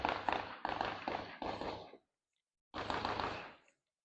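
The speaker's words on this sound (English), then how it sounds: "I'm gonna probably go for this target over here next, and I'll do a slow rate of fire" Apollo 11 Compact pistol fired at a slow rate at a range target: four sharp shots in quick succession, a pause, then one more, each loud and close.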